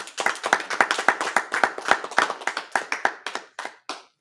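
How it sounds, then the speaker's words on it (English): A room of people at a Feast of Purim gathering claps in sharp, fairly steady strokes, loud and close, then thins to a few last scattered claps. "Let's go ahead and clap it up."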